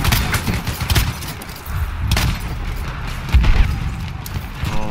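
Dense shotgun fire in a chaotic multiplayer shooter battle, with repeated loud booming blasts and rapid overlapping gunfire throughout, close and continuous.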